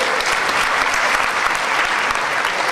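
A student audience at a motivational seminar breaks into loud, dense applause, a steady roar of many hands clapping at once that holds at full strength for the whole stretch.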